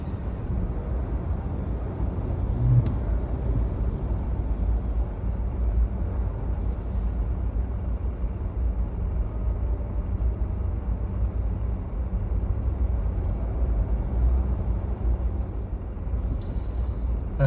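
Car cruising on the M5 motorway, a steady low road and engine rumble from inside the cabin, unchanging over many seconds with no one talking.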